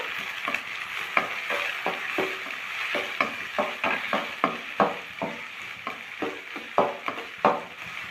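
Chopped carrots stir-fried for veg fried rice, a steady sizzle broken by repeated rhythmic scrapes and clanks of a spatula against the pan, close and clear with no talking.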